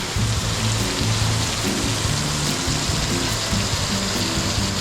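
Heavy rain at the beach beginning to let up, a dense steady hiss of falling drops on surfaces, close and continuous, with a low hum running underneath.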